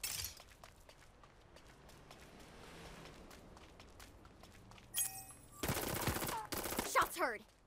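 Gunfire in the Super Mecha Champions video game: faint distant shots crackle early, then a loud close burst of rapid fire around the middle, with a brief snatch of game voice near the end.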